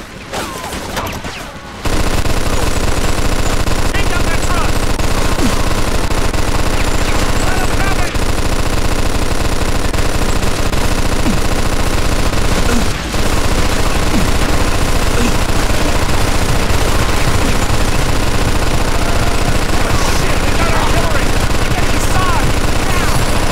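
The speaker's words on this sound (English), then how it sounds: "Get on that machine gun!" A mounted machine gun in Mafia 2 fires in long sustained bursts, loud and dense and close, almost without pause after a brief quiet start, with a short break midway.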